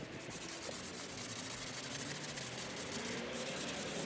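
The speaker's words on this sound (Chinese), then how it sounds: "要用砂纸拿手一点一点的把它打磨出原有的形状。" Sandpaper rubbed by hand over a raised wooden garage door panel gives a steady, close, dry scratching hiss that runs on without pause and without voices.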